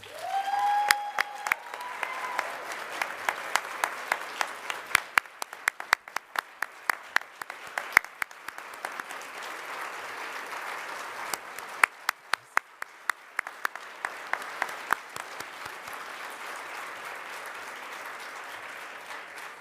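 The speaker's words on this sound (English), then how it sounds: "Let's give Tracy another round of applause, please." An audience at a Martin Luther King Jr. sunrise celebration gives a long, sustained round of applause, with dense clapping and sharp individual claps standing out throughout, and a brief voice at the start.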